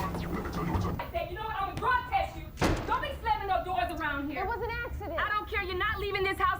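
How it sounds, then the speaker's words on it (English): A single sharp door slam from a scene in the TV show Euphoria lands amid ongoing dialogue, a brief loud thud cutting through the voices before talking resumes. "Don't be slamming no doors around here."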